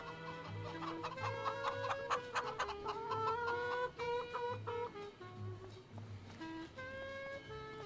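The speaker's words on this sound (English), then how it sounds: "we got the roosters going off to wake us up in the morning" Roosters call out in the morning near a tent, with loud, repeated clucking and crowing cries following one another closely at close range.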